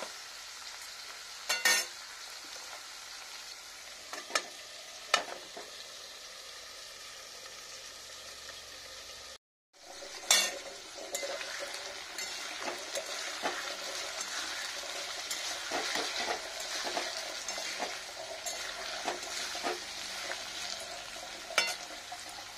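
Washed, drained cabbage is stir-fried in a pan with dry-roasted chilli, cumin and fennel spice powder, a steady close sizzle broken by sharp clatters of stirring, briefly cutting out before resuming stronger and busier.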